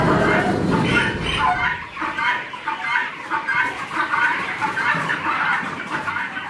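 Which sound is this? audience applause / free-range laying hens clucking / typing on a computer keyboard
free-range laying hens clucking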